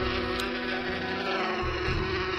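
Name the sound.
buzzing bees in the video game Inherit the Earth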